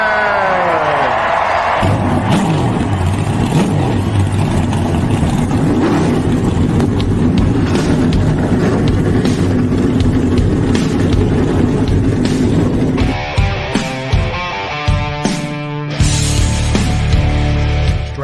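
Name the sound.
NASCAR race car engines starting and revving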